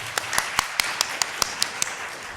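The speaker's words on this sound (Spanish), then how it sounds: "Un aplauso para ella" Sharp, evenly spaced handclaps, about ten in a steady rhythm, ring out at a lecture event for a women-in-media program, sounding more like a few people clapping than a full audience.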